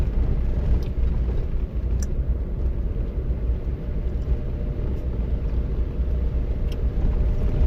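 A 4x4 with four-wheel drive engaged rolls slowly over a rough road, a steady low engine rumble and road noise from inside the cabin with occasional faint knocks.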